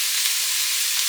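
Onions and carrots sizzle in a hot pot with a steady, close hiss of frying that stays even throughout the short stretch, with no voices.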